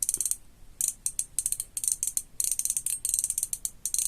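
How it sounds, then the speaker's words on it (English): Drag on a Shimano Nasci C2000S spinning fishing reel clicks in rapid ratcheting bursts, close and crisp, with short pauses between runs of clicks. "with the drag sound, I'll let you hear the drag"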